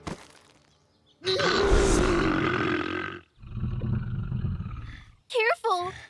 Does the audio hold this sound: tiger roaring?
yes